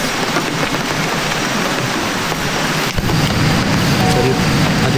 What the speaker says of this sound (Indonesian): Cuaca hujan gerimis.